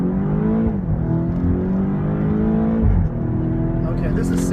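A 2015 BMW X6M accelerates hard up a hill, its engine note climbing steadily through the gears with a brief shift dip, heard from inside the cabin while someone talks over it.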